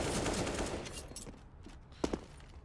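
Gunfire in the video game CS:GO during a FaZe Clan vs Ninjas in Pyjamas match on Overpass: a rapid burst of shots fading out, then a couple of sharp distant reports, fairly quiet.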